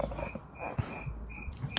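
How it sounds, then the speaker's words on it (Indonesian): Crickets chirp in a faint, thin, repeating trill under a quiet, cluttered room background, steady across the whole moment with a few small knocks. "Ada suara jangkrik ya."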